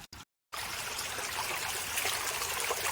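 After a brief silence, a steady trickling and rushing of rainwater flowing down into a stream in Konkan during heavy monsoon rain fills the clip, close and continuous, with no voices.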